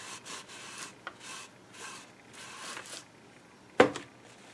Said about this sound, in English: I'll just rub a little bit off of the top there too